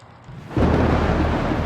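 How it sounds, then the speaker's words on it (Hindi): Thunder and heavy rain hit during a record-breaking storm with lightning and hail. A sudden loud, broad roar starts partway through and keeps rumbling steadily until the end. "बारिश, बिजली का कड़कना और ओले भी गिरे।"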